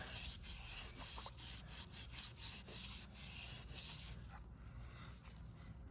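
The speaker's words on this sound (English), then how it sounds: "So I just have some 3M pad, and now it's soft enough where I can just rub off the excess" Steady abrasive rubbing as a 3M pad scrubs rust and softened gunk off a rear brake rotor on a Porsche Boxster 986, a continuous close scouring hiss with rhythmic strokes and no talking.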